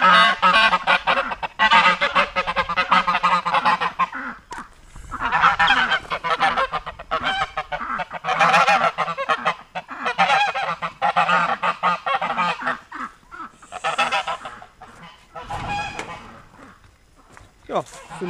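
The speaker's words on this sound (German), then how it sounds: "meine Mutter ihre Gänse" Geese kept on a small family farm honk repeatedly in loud overlapping bursts through most of the stretch, with short gaps between calls and some talk mixed in.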